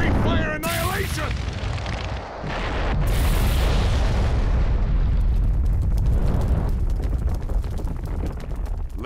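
A fire-style jutsu explosion in the Naruto Shippuden Ultimate Ninja Storm 3 video game roars as a loud, continuous blast with rumbling booms that fill the whole stretch without letting up.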